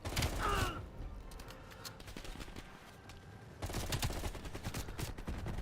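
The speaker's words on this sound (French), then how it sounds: "Mais ça tire partout." Gunfire crackles in Call of Duty Black Ops Cold War as bursts of shots and scattered rapid fire come from several directions, with a loud cluster at the start and another dense stretch near the end.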